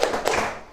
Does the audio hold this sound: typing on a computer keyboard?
no